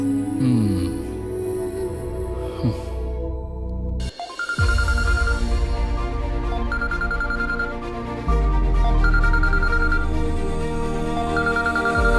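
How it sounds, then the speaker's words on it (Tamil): A telephone ringtone chimes in repeated short electronic bursts at regular intervals over a dramatic music score from a Tamil television serial, moderately loud and sitting within the music. "யாரு இந்த நேரத்துல ஃபோன் பண்றாங்க?"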